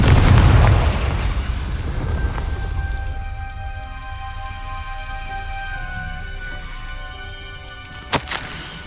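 A Confringo fire spell blasts in the game Hogwarts Legacy: a loud, deep boom at the start that fades into a long rumbling tail, then one more sharp hit near the end, with no talking.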